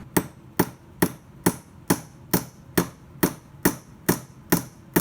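Eleven evenly spaced, sharp hammer taps on a rivet in sheet metal, forming its head, each a crisp close metallic strike with a short ring, steady and unhurried.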